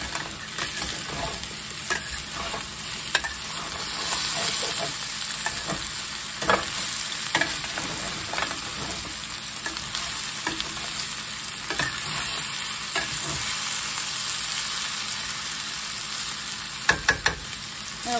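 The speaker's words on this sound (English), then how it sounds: "now that the potatoes have been cooking for a little bit, they're not totally done" Potatoes for corned beef hash fry steadily in a pan, a continuous close sizzle broken by scraping stirs and occasional clinks of a utensil, with no talking.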